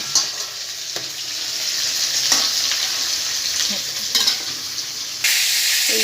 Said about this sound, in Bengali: আর এই যে ভাজা হচ্ছে, একটু ভাজা করে নেবে।